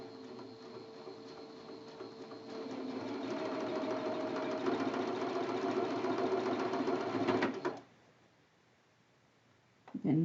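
A sewing machine stitches quilt block seams with a steady mechanical whir that speeds up midway, runs continuously, then stops abruptly, leaving near silence before a brief noise at the end.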